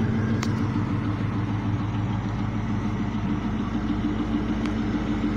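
Holden Commodore VX SS with a 5.7 litre LS1 V8 and six-speed manual, running with a steady, loud low rumble close by and little change in pitch, more like a held idle than sharp revs.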